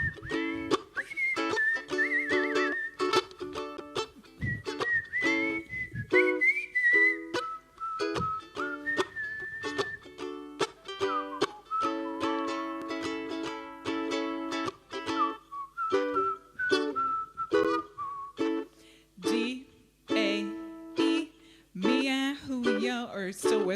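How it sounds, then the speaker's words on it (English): Someone whistles the chorus melody of a song in a ukulele lesson, a clear solo whistled tune of quick bouncy phrases carrying on for over twenty seconds. "On the chorus, the whistle chorus."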